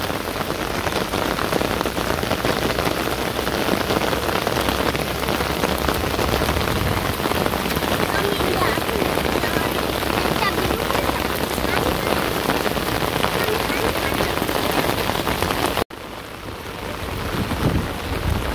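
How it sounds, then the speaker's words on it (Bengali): Steady heavy rain falls in a village, a dense unbroken hiss with close patter on surfaces that drops suddenly near the end. "তো দেখেন যে কিরকম করে বৃষ্টি পড়তেছে।"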